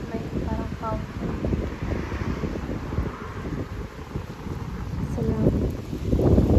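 Strong wind in Slovakia roars and buffets the microphone in a continuous, loud rush, with brief faint voices underneath.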